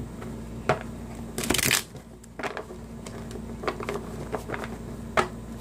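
Quiet riffling and snapping of tarot cards being shuffled, with soft taps and a brief louder flurry, over a low steady hum.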